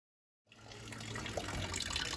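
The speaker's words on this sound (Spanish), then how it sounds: "Este calentador está lleno de agua, entonces es sumamente pesado, así que vamos primero a vaciarlo" Water gushing as an instantaneous tankless water heater is drained, a steady hissing pour that starts abruptly after a moment of silence and grows slightly louder.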